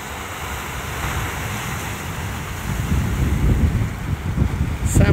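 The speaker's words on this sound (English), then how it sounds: "beautiful spray coming up off that water when it's hitting those rocks" Ocean surf churns and rumbles steadily against shoreline rocks in Po'ipū, Kaua'i, swelling louder toward the end, with wind buffeting the microphone throughout.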